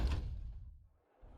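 A door opening in the Starfield video game, a short low whoosh and thud that fades away, then a quieter second rumble near the end.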